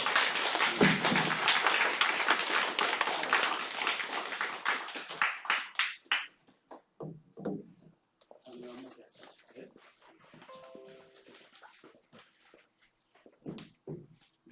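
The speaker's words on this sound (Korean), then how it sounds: "우리 박수 한번 해주세요" A Korean church congregation claps in a dense, lively burst for about six seconds. The applause stops abruptly, and then someone speaks alone at a moderate distance.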